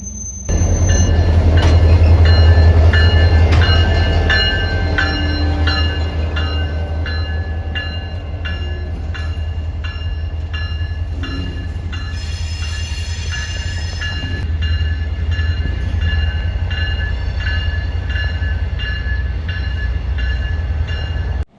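A train backs slowly and steadily into a spur track with rhythmic clanking and wheel noise, close by, with a faint squeal partway through and no voices.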